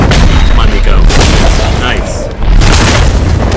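Witch Fire attack explosions in the video game Marvel's Midnight Suns, heavy booming blasts filling the clip loudly and continuously with only a brief dip, while a voice speaks briefly over them.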